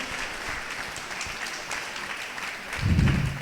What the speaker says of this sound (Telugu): గట్టిగా చప్పట్లు కొట్టి గట్టిగా కొట్టండి